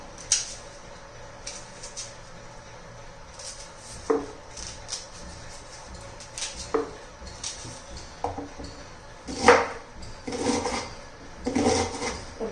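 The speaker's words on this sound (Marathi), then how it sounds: "मी एकदम असा बारीक कांदा चिरून घेते" Onion being finely chopped with a knife for a spicy bitter gourd vegetable dish, with irregular close knife taps and board knocks, some sharper clacks, and quiet kitchen handling between strokes.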